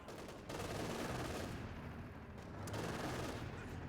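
Dense, continuous gunfire and bursts of automatic weapons roar without a break in a World War II strategy video game battle where a Panther tank is cutting down retreating British infantry, loud and layered throughout.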